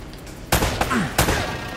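Two sharp gunshots ring out about half a second apart in the Uncharted video game, with a smaller crack between them and a whooshing game effect, over a low ambient background.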